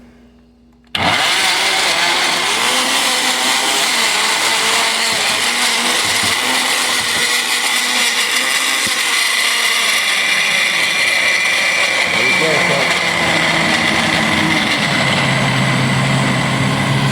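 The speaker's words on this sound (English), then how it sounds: "we're getting these plantains mixed in thoroughly too" A blender roars loudly and continuously as it purees thick plantains, starting abruptly after a brief quiet moment and then grinding steadily, with its pitch shifting slightly as the mixture thins.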